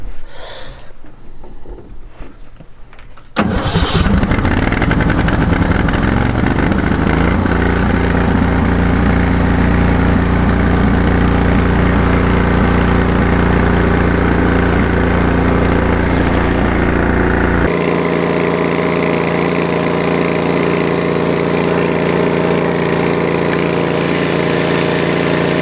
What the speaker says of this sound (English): Run the engine on high speeds with the throttle up.